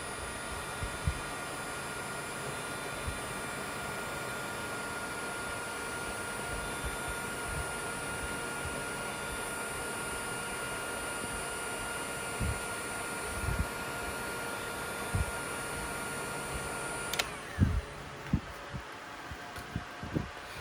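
Heat gun blowing on heat shrink tubing over crimped wire connectors gives a steady, close whirring roar with a fan-like whine. It runs continuously, then cuts off abruptly near the end, leaving a few soft knocks.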